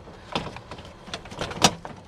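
Plastic clips and trim rattle and knock as a lower door panel is worked loose on a classic GM G-Body car, a series of short close clicks and scrapes in a garage.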